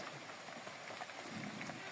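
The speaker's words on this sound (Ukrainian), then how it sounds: "О, отакий дощ іде" Steady rain patters down in a dense, even hiss with scattered drop ticks, continuous and fairly quiet, with no voices.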